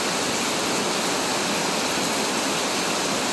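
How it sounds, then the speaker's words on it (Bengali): Torrential morning rain pours down in Malaysia, a dense, steady roar of heavy rainfall that fills the whole clip with no voices and no pauses. "মুষলধারায় বৃষ্টি চলতেছে, এরকম বৃষ্টিও আমি খুব কম দেখছি"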